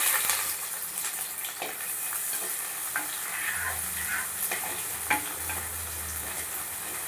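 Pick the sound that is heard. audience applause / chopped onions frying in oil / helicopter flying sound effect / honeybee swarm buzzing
chopped onions frying in oil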